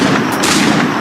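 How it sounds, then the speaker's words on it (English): A pistol in the PC game Assassin's Creed 4 Black Flag fires with a loud, harsh blast that crowds out everything else for about a second, with no talk. "Pull off a few shots if you like."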